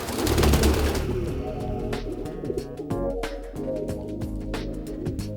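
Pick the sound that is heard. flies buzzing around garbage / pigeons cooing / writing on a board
pigeons cooing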